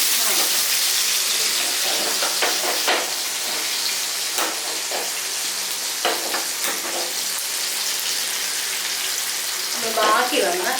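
Fish coated in green masala frying in hot oil gives a loud, steady crackling sizzle with scattered sharper pops throughout.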